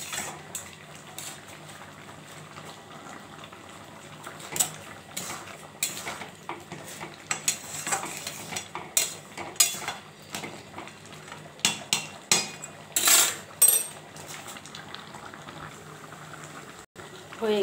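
Fruit chutney being stirred in a pan on the stove, with steady soft bubbling and repeated scraping and clinking of a spoon against the metal, plus a few sharper knocks; a voice may be faintly audible in the background.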